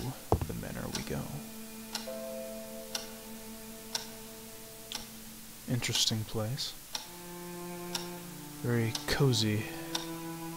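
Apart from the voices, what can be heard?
grandfather clock ticking in Scratches video game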